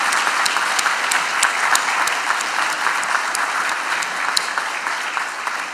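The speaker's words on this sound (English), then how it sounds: "Let's have a round of applause for the AV folks as well." Sustained applause from a conference audience, dense steady clapping with scattered sharp individual claps, continuous throughout at fairly loud level.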